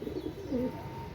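A single soft coo from Pakistani pigeons, low and rounded, heard close by over faint background hum.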